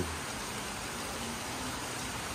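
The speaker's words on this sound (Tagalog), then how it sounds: "Tapos ang lakas ng ulan." Heavy rain pours down in a continuous, even roar of broadband noise with no breaks or other sounds standing out.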